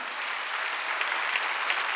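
A church congregation at a Wednesday worship service claps together in a dense, steady burst of applause that holds at even loudness for the whole moment.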